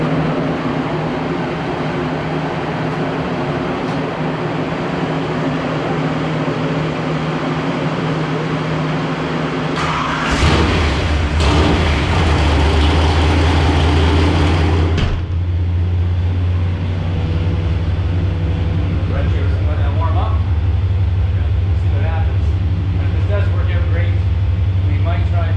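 A 496 big block Chevy engine fitted with a Brawler carburetor runs on a dyno, idling with a low steady drone, then revving hard for about five seconds before settling back to a loud idle.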